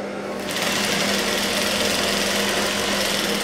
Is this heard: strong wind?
no